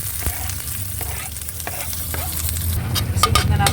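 Garlic and onion sizzle in a pan of oil, a continuous crackling fry with a few sharp spoon clicks that grow busier and louder toward the end.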